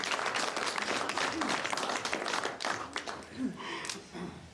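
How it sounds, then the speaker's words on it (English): Audience applause honoring a Packers Fan Hall of Fame program leader, steady dense clapping from a crowd for several seconds, with some voices murmuring beneath. "A round of applause for Drew as well."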